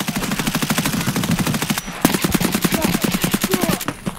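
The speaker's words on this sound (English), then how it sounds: "Make noise. Shoot. Just start shooting." Automatic gunfire in the video game Escape from Tarkov, rapid close bursts of shots in steady rhythm, with a brief break before another long string of fire.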